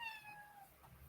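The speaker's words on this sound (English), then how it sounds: "No, he's meowing." A cat lets out a single faint meow that slides downward, heard indoors against a low background.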